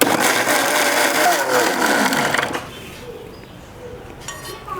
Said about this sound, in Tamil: இதை கொஞ்சம் ஆற வச்சுட்டு நம்ம மிக்ஸி ஜாரில் போட்டு பேஸ்ட்டாக அரைச்சி எடுத்துக்கலாம்